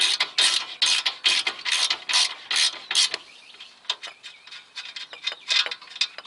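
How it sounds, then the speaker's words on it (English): A half-inch ratchet clicks rapidly and loudly as a bolt is removed from a VW MK6 GTI, with bursts of ratcheting strokes that fade into lighter, scattered clicks. "always use a 1/2-inch ratchet. It just makes life a lot easier, especially getting that bolt out."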